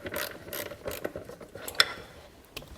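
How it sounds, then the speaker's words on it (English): Ratchet with a 10mm socket loosening EGR valve bolts on a Ford Escape 3.0L engine, quick clicking ratchet strokes in several short bursts, close and fairly quiet. "take a 10mm socket in my ratchet, and we've got 2 bolts to remove here"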